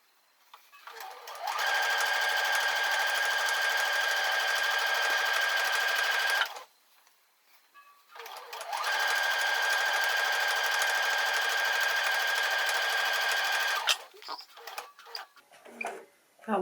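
Sewing machine stitching binding onto a quilt, running in two long, steady, loud bursts of several seconds each with a brief pause between them and a few light handling clicks at the end.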